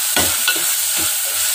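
Tomato and curry leaves fry in a pan for a sardine curry, giving a loud, continuous sizzle with several quick scraping stirs near the start.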